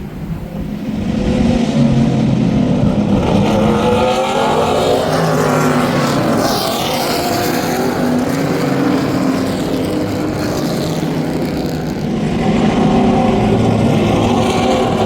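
Race cars roaring off at the green flag of a Pro-Am race at Ten Tenths Motor Club, a loud dense wash of engines building and sustained for the whole stretch, close by with no talk.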